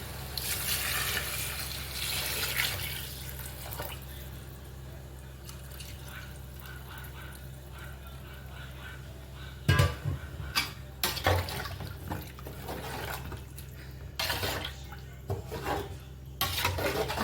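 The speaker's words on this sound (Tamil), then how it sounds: "இப்போது தண்ணி ஊற்றுறேன்." Water is poured into a cooking pot for biryani, a faint running trickle at first, then scattered clinks and splashes of the pot and utensils at close range.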